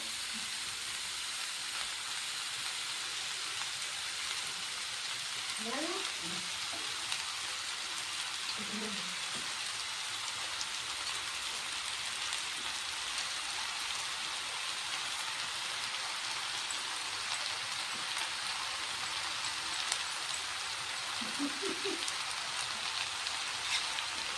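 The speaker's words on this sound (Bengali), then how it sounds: "সবজির সঙ্গে চাউমিনটা মিশিয়ে নিয়েছি।" Boiled chow mein noodles being stir-fried with cabbage and vegetables give off a steady, fairly faint sizzling hiss throughout, with a few soft scrapes and clicks from tossing in the pan.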